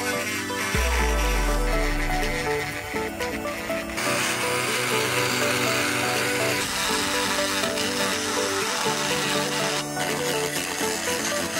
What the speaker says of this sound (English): I think I'm gonna have to swap to my engraver on this one.